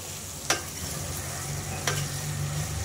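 Sambar simmers in a pot under a steady bubbling hiss, broken by two sharp spoon scrapes against the pot, close and fairly quiet, with no voices.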